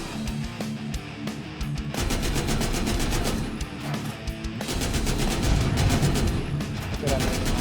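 Rapid bursts of automatic gunfire rattle through a zombie survival video game, coming in dense repeated volleys at close range with brief lulls between them.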